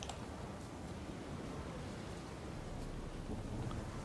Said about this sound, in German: Jetzt wird es ja auch richtig windig.